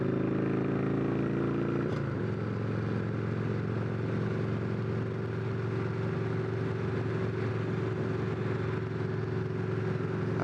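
Victory V92C motorcycle accelerating on the road, a loud steady engine drone with a throttle shift near the start, then a sustained rumbling hum mixed with wind and road noise.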